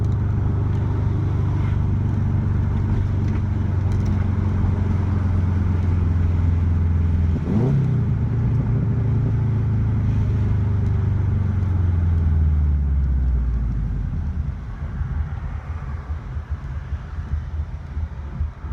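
A car engine, freshly broken in, rumbles steadily at idle with a lope, its pitch sagging lower near the end as the revs dip, with wind noise throughout, heard through open windows.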